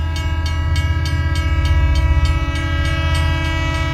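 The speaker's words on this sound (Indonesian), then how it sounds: "tiba-tiba Bambang mendengar ada suara klakson kereta." A loud train horn blares steadily over the rhythmic clatter of rail cars passing close by.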